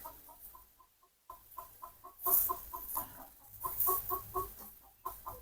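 Pigeons busy in a farm loft make repeated soft clucking calls in an uneven rhythm, with brief gaps and rustling movement, close and fairly quiet.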